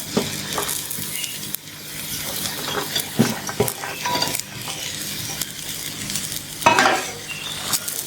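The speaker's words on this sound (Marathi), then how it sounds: "आता आपण भाज्या घालू।" Mixed vegetables being stirred into spiced rice in a pan for Marathi-style veg pulao, with a steady sizzle and repeated scraping clatters of the spoon close by, no talking.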